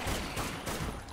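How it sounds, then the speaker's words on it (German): A flare grenade goes off in the zombie shooter Dead Nation on PS4, giving a dense, steady crackling burst that holds for the whole moment with no voices over it. "Das war eine Leuchtrakete, also eine Leuchtgranate oder was zum Ablenken."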